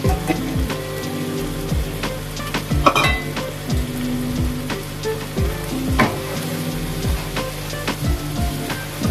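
Spices and crushed red chili frying in oil in a pan for chicken wing korma, a loud close crackling sizzle with steady spattering, plus repeated scraping knocks of a spoon stirring against the pan.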